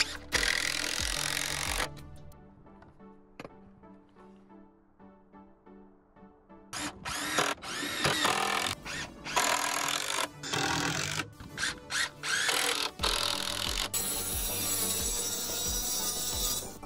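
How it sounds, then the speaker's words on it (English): A power tool cuts grooves in a rotten wooden top plate near wiring, with harsh, bursty whining and rasping that stops and starts, including a quieter stretch in the middle. "super carefully cutting out around these wires because this top plate is rotten right here"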